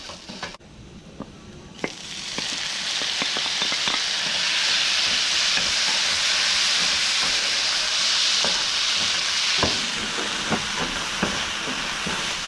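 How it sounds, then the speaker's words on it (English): Tomato goes into browning rice for Querétaro-style Spanish rice, setting off a loud, sustained sizzling hiss with scattered clicks and pops, no talking. "it is time for us to get the tomato inside our rice"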